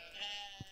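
A sheep bleats in the farming game Stardew Valley, a single soft, drawn-out cry heard alone at low volume, followed by a brief faint thump.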